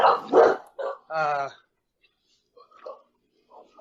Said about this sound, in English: My dogs are going ape shit.